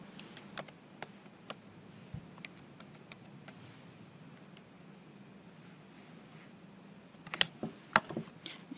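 An account number is typed on a computer keyboard: scattered, quiet key clicks in short bursts over a faint hum, with a denser cluster of sharper taps near the end.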